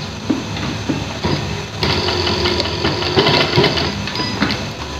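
A sewing machine stitches a zip pocket onto a shalwar in a loud, close, continuous mechanical whir. It speeds up slightly partway through and carries on without pause.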